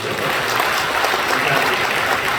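A church congregation at a Sunday worship service applauds the members of Hannara Grace Church, steady and dense clapping from a sizeable crowd that carries evenly throughout.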